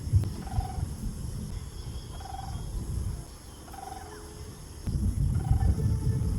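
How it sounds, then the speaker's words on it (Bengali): A small munia bird calls in short, faint chirps, four of them spaced evenly about a second and a half apart, over a steady low rumble of background noise. "পাখিটা মাঝে মাঝে ডাকতেছে, মনে হয় তার সাথীকে ডাকতেছে।"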